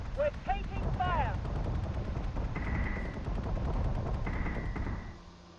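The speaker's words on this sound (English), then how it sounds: "We're taking fire!" Gunfire hits ships in a naval combat video game. Continuous rumbling bursts of shots and impacts run throughout, with a few brief whistling tones and alarm-like beeps over the dense noise.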